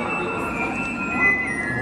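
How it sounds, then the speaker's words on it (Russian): A Moscow metro train car pulling into a station, a loud rumbling roar with a faint high squeal from the wheels, close by and steady throughout. "Вот, смотрите, приехал вагон."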